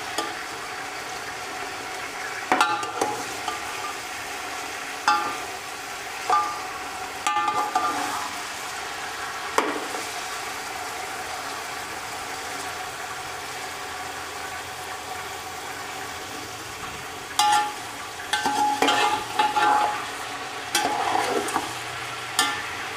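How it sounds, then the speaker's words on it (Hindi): Chicken frying in a pot for home-style biryani, stirred now and then; a low, steady sizzle runs throughout, with occasional scraping and clinking of the spoon against the pot. "साथ साथ हम इसे हिलाते भी रहेंगे ताकि हमारा चिकन नीचे ना लगे"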